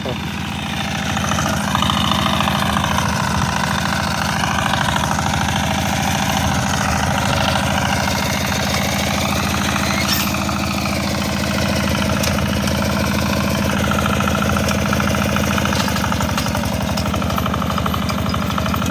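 A Zubr walk-behind tractor chugs steadily throughout while sowing phacelia in a field, its engine running loud and close with a constant rough idle-like drone; a voice talks over it at times.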